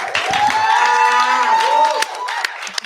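A live comedy show audience bursts into loud clapping, whoops and high-pitched cheers, close and energetic, fading slightly toward the end.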